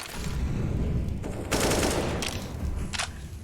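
Spammed gunfire through a wall or smoke in CS:GO during a professional match, a dense rattling stream of shots with brighter bursts midway and near the end, moderately loud under game ambience.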